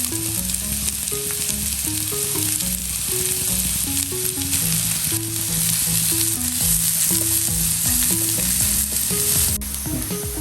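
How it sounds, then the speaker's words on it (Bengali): Chopped onions with torn green chillies fry in a pan, a steady broadband sizzle running the whole time beneath a melodic background music track. "তো মোটামুটি আমার পেঁয়াজ ভাজা হয়ে গেছে।"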